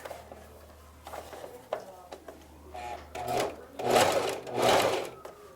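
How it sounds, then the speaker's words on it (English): A sewing machine stitches along the edge of a cloth face mask, backstitching to seal the seam in short bursts that grow louder toward the end, close and without talk. "Always backstitch when you're sealing it off."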